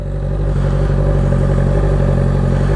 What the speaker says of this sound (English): I just wanted to give you guys a little video of the exhaust installed